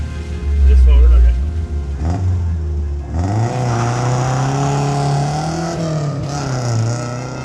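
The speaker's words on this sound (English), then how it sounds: "I did an acceleration test because we never did first gear" A Herald car pulls away hard in first gear. The engine note revs loud and close, dips as the car moves off, then climbs and holds a steady drone, with voices heard faintly at times.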